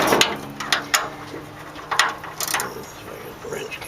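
Wrench tightening a fitting on a 1914 Dodge Brothers roadster, a series of sharp metallic clicks and ratcheting taps at irregular intervals, close and moderately loud.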